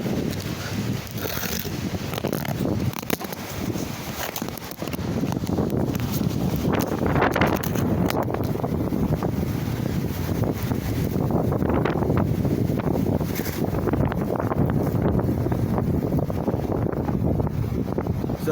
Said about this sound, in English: today's a bad windy day in Fort Myers again